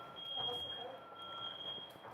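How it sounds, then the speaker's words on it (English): A smoke detector alarm sounds as a steady high-pitched tone through the whole stretch, with talk faintly underneath. "Gil, at least your smoke detectors work."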